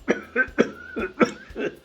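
A few short, forced coughs in a row, close and moderately loud, sounding put on rather than natural.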